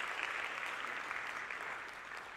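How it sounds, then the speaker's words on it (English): A school band holiday concert audience gives another round of applause, steady and fairly faint, as if heard from a distance, with no voices over it. "Give him another round of applause"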